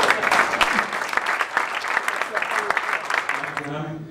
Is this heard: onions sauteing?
no